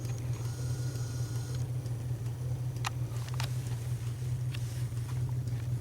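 A Bedini SSG replication motor spinning at moderate speed, giving a steady low hum with a constant drone and a few faint clicks and ticks on top.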